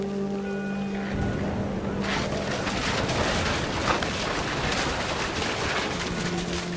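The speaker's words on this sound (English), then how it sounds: "The rain came down in buckets then" Steady, dense rain in the video game What Remains of Edith Finch, a heavy downpour hissing close and continuous with a faint low tone underneath, no voices.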